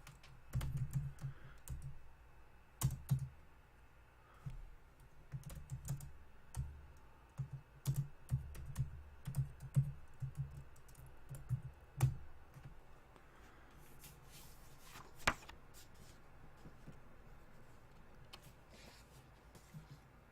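Steady computer keyboard typing, a long run of soft, close key taps in uneven bursts over a low background hum, thinning out toward the end.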